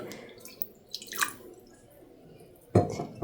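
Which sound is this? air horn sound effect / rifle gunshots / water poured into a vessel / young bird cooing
water poured into a vessel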